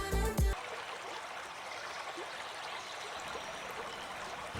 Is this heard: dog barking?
no